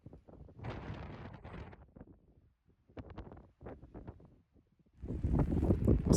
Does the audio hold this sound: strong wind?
yes